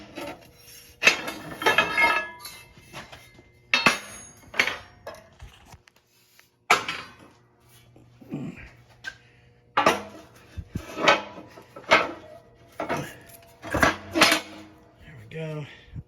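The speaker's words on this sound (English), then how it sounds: "So let me take this up and I'll pull this die out." A metal die is pulled out of an off-road press brake, producing close, irregular metallic clanks, knocks and scrapes with brief quiet gaps, while someone talks between the noises.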